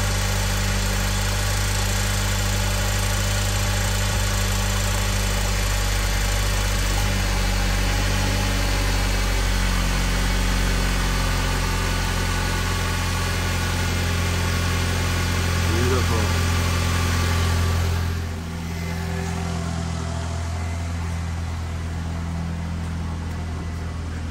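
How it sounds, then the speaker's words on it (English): A 2009 Nissan Rogue idles with its air conditioning running. It gives a steady, close mechanical hum with a slight change in tone partway through. "Okay, the car is running."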